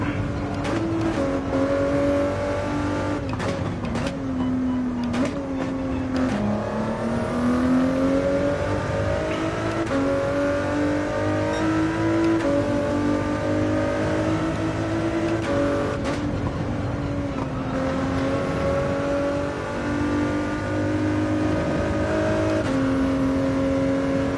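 Race car engine revving hard through gear changes, loud and continuous with rising and falling pitch across the whole stretch, from a Saturday round of a racing series, likely an onboard sound.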